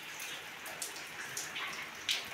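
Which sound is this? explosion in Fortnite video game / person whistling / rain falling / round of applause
rain falling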